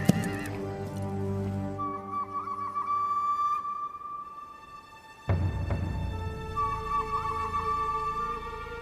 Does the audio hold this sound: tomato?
no